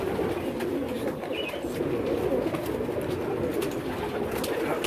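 Pigeons on a rooftop pigeon loft in Karachi, a soft steady murmur of cooing and faint chirps under a constant outdoor hum, with no clear talk.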